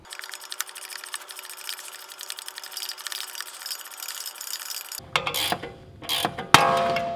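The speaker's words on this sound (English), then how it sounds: "we'll use our ball joint separator and just pop them out" Mechanical clicking and ratcheting, then a few sharp metallic knocks and a pop near the end as a ball joint separator presses the upper control arm ball joints out of the spindle on an Audi B9 front suspension.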